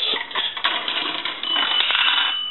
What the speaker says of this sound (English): We'll do a nickel, which will ring the bell once,